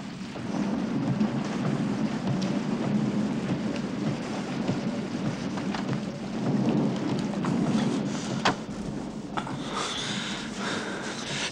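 Steady rain with rumbling thunder on a cold, wet day, a dense continuous wash of downpour and low rolling rumble that holds throughout, with brief sharper bursts near the end and no talk.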